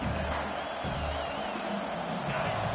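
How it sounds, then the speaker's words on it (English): Stadium crowd at a college football game between Arkansas and Oklahoma, a dense, steady roar of cheering and whooping that fills the whole clip at constant loudness, with faint announcer-style talk blending into the noise. "This crowd bringing the energy and noise early"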